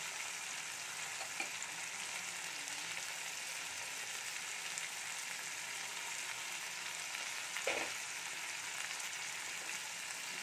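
Chopped ginger fries in hot oil in a pan for a home-cooked chana dalna, a steady close sizzle running throughout with a couple of soft utensil knocks and no voices.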